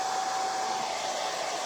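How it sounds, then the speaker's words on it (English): A loud hair dryer runs steadily without a break, drying a spring floral mason jar craft project up close. "Sorry the dryer is so loud."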